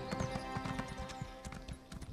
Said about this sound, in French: je vais passer toute la vidéo à galoper jusqu'à là-bas